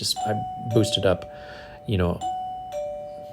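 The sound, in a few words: doorbell ringing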